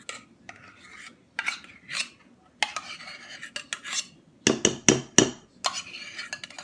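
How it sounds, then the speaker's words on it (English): Yogurt spooned into a bowl of flour gives bursts of scraping and clinking as a metal spoon knocks and rubs against the bowl, close and crisp, with short pauses between strokes. "So I've got like a little under a cup of yogurt here and I'm going to add that in"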